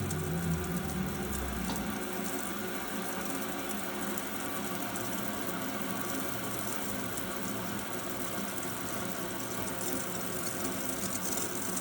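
Hot water runs steadily from a sink tap, a constant rushing stream with no talk over it.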